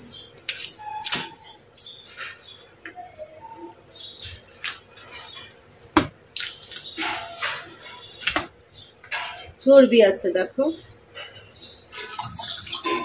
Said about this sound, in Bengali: ভালো করে ধুয়ে এটা দেখো একটা ফাইনাল ধোয়া দিয়ে দিব